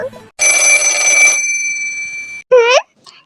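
A telephone bell rings once in a loud, sustained burst, followed by a short pause and then a brief spoken voice.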